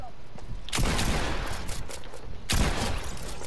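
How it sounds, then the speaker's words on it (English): Rapid gunfire from a Fortnite firefight crackles in two loud, dense bursts, each opening with a sharp blast and trailing into rattling shots. "Keep shooting him."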